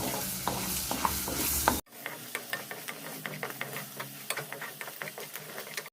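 Green and dried red chillies fry in hot oil as a spatula stirs and scrapes a pan, giving a steady close sizzle with a rapid series of sharp scraping clicks, and no talking.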